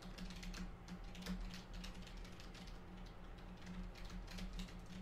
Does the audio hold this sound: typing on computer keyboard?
yes